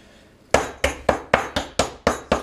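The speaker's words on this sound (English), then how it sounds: "It makes me feel like a big man when I crush up ice with a hammer." Ice being crushed in a Lewis bag with a hammer while making an Aviation cocktail: eight sharp, evenly spaced blows ring out up close, each a bright cracking impact with a short decay, after a brief quiet start.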